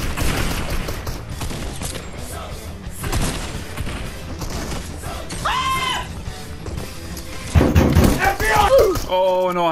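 Fortnite gunfire crackles in rapid bursts and thuds among game effects and sweeping electronic tones, mixed with excited players talking over the action.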